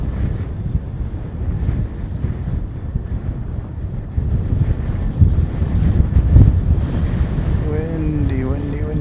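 Strong wind buffets an outdoor microphone at a plane-spotting spot in Christchurch, a steady low roar with gusts swelling midway and a faint aircraft tone rising near the end.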